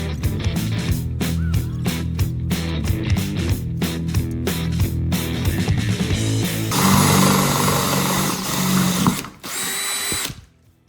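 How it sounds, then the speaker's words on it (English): A power drill bores holes during a truck camper build, loud bursts of grinding spin in rapid stop-start pulses, then one long continuous run before stopping abruptly and giving way to quieter shop noise. "Drilling holes in this."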